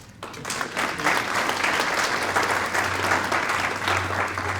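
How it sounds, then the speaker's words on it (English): Banquet audience applauds for Doug Todd at a Mt. SAC Athletics Hall of Fame dinner, a dense steady wash of many hands clapping that swells after a brief start and holds loud and even throughout, with a low hum beneath. "Can we also have another round of applause for Doug Todd?"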